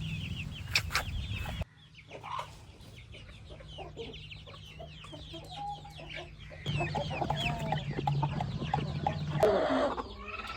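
Nellore breed roosters and hens on a poultry farm cluck and call continuously, many overlapping birds close by, with a brief louder burst of clucking and wing flutter near the end.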